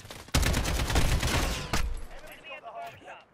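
Bursts of automatic gunfire during a Call of Duty Modern Warfare Hardpoint match on Grazna Raid, loud rattling shots that fade into scattered distant fire, with a player's voice faintly under the action.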